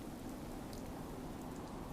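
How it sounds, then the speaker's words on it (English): Steady rain falls in a dense, even hiss, continuous and fairly soft throughout with no other sounds breaking through. "sorry about the rain, but I'm not re-recording this"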